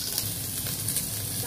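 Fermented beef fish sauce stir-fried in a hot pan gives a continuous close sizzle and crackle of frying, with no voices over it.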